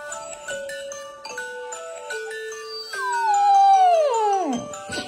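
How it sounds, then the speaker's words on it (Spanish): A dog howls along to a phone's electronic alarm melody, its long, rising then falling wail rising over the repeating tinkling tones and fading into a few whimpers, close and fairly loud. "Cuando tu perrita se sabe los tonos de alarma y no quiere moverse."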